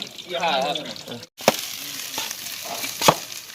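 Thai khao kluk kapi, rice with shrimp paste, stir-fried in a pan: a steady sizzle with scraping stirs, a brief pause, then a couple of sharp spatula clacks against the pan.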